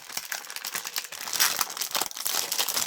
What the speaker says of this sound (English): I'm going to make a lot of crinkling noise because now I'm not sure.